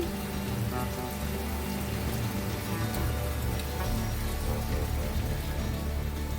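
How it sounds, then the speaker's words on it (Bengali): Heavy rain pours steadily outdoors during the monsoon season, a dense, continuous wash of drops drumming on surfaces at an even, loud level throughout, with no voices. "বাইরে কি জোর বৃষ্টি হচ্ছে"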